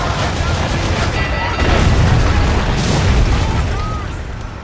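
Ship cannons firing in Assassin's Creed III at sea, a heavy sustained barrage of booming blasts and rumbling explosions layered with crew shouts and battle din.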